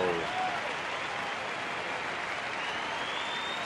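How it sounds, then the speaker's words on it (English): A baseball crowd applauds pitcher Philip Humber taking a no-hitter into the 6th inning, a steady, dense wash of clapping at a distance that fills the whole stretch, with a brief faint voice at the start. "Philip Humber gets a nice hand from the crowd, taking a no-hitter into the 6th"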